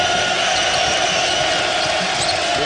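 Loud, sustained roar from a packed college basketball arena crowd at Wake Forest versus Virginia Tech as the home side takes the lead, a dense continuous wall of cheering with no break.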